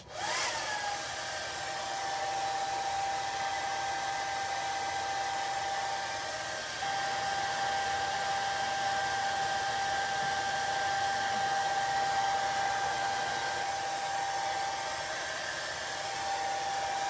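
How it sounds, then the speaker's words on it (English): A blow dryer running steadily at close range to dry chalk paste on a craft project, a continuous loud whooshing hum with a slight shift in tone partway through and no talking. "I'm just going to speed up the process for the video with a blow dryer"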